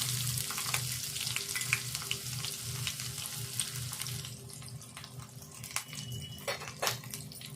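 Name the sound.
mustard seeds, cumin, green chili and onion frying in oil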